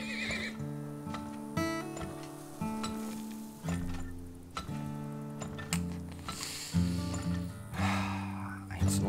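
Several horse neighs and whinnies ring out over clip-clopping hooves, with a voice speaking in between; the sounds have a synthetic, game-like quality, from the video game Turmoil.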